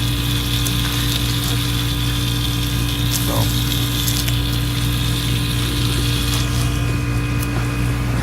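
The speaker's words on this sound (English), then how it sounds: "So we got good water spray, good water pressure." A bow water sprayer pump fitted to a 1998 Carver 350 Mariner boat runs with a steady loud hum and hiss of spraying water, an unbroken drone heard close by throughout.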